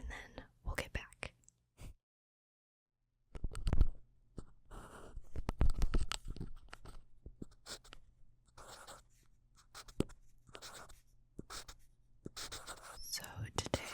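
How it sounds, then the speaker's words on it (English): Pencil writing on paper while working through rocket-equation maths, soft scratchy strokes in irregular bursts, close and quiet, mixed with faint whispering and small handling sounds. "So we're going to be using pencil and paper to explain the mathy parts"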